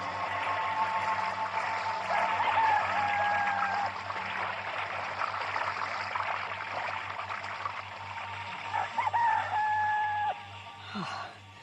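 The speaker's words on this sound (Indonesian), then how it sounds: "Ayam hutan sudah berkokok." A jungle fowl crows at dawn in a forest setting, with repeated crowing calls over a dense, continuous bed of ambient noise like flowing water.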